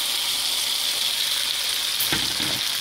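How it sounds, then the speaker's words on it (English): Pasta noodles sizzle steadily in a hot pan, a continuous bright frying hiss, with a brief scrape and clatter of stirring near the end. "Cook the noodles up, so they get warmed up. You want to constantly stir."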